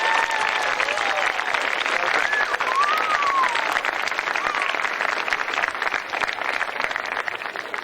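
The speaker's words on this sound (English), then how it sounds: "Can you give a round of applause to our veterans and thanking them again today?" Steady applause from an audience at a school Veterans Day celebration, honoring veterans; dense, sustained clapping across the whole stretch with faint voices mixed in.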